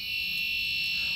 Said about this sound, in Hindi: अल्ट्रासोनिक के सामने कोई ऑब्जेक्ट आता है तो ये अलार्म बजने लगता है